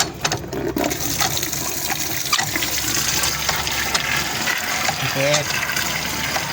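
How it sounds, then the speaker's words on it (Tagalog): Water gushes steadily from a hand pump (poso) at a nature campsite, a continuous splashing flow close by, with one short spoken word over it. "Yung babagsakan ng tubig, ito ay poso."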